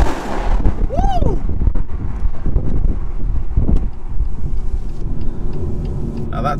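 BMW M140i with its B58 engine accelerating hard through a road tunnel, a loud, continuous roar that echoes and swells as the car pulls, with wind buffeting over it and brief voices.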